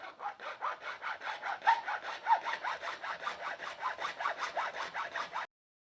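Rapid back-and-forth sawing through a Porsche 911 airbox, a steady run of about two dozen rasping strokes for roughly five seconds, close and loud, then stopping abruptly into silence.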